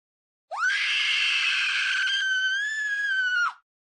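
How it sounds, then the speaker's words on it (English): A sustained, shrill scream rings out inside a house for about three seconds, steady and loud with a slight rise in pitch near the end, then cuts off abruptly with no talking. "George and Kathy hear screams, voices, and other bizarre sounds coming from inside their home."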